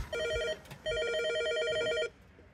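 An electronic telephone ringer trills in two loud warbling bursts, a short one then a longer one, with a brief gap between them, close by and with no voices over it.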